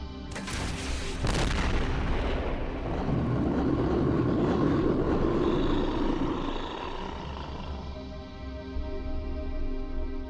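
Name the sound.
artillery fire barrage in X-Com Files video game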